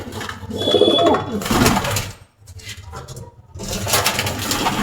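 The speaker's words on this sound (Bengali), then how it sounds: "ডাকতেছে অনেকদিন পরে, এরকম ডাক শুনতেছি" Pigeons coo in a pigeon farm, a close, throaty rolling murmur in bursts with a short pause in the middle, while a person talks over part of it.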